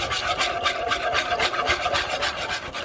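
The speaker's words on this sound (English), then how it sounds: "keep whisking" Flour, milk and butter whisked together in a pan, a steady rhythmic scraping and rasping of the whisk against the pan, close and fairly loud with no talk.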